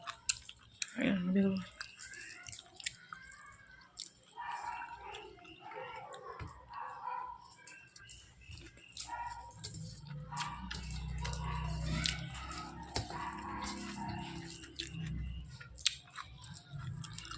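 Wet, close chewing of rice with cauliflower-stem chorchori, with irregular smacking and biting sounds scattered throughout and quiet speech and background noise mixed in.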